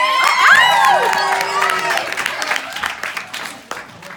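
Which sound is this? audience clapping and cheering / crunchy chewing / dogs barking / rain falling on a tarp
audience clapping and cheering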